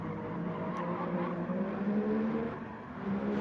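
A GT1 race car engine in a racing video game drones steadily at a moderate distance, its pitch holding and shifting slightly as it runs on, with no voices over it.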